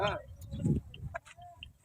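Hens and a rooster cluck near a farm pen, several short soft calls under a person talking and shooing them along.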